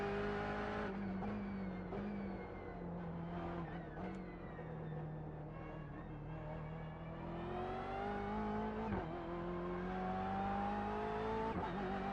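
Racing car engine in a GTE-class video game at the Nürburgring Nordschleife, droning steadily with harmonic tones that rise and fall through gear changes, alongside other cars, loud and continuous throughout.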